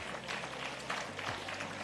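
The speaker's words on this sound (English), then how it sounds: "Another round of applause," Applause from attendees at a stock exchange investment conference, a faint, distant, steady patter of many hands clapping over a low room hum.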